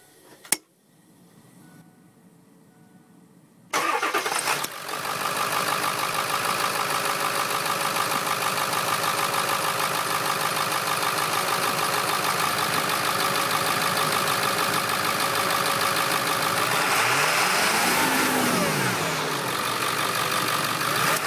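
A 7.3L diesel engine cranks and catches, then settles into a loud, steady idle with a low rumble and constant clatter, heard close up with no talk.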